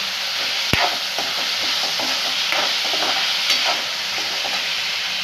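Food sautés in a frying pan with a steady hiss of sizzling oil, broken by soft stirring scrapes and one sharp clink near the start.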